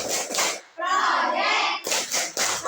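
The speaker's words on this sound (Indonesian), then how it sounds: "Biar pada semangat, kita tepuk P5 dulu." Schoolchildren in a classroom perform a rhythmic group clap, bursts of quick hand claps framing a short stretch of children chanting together, close and lively.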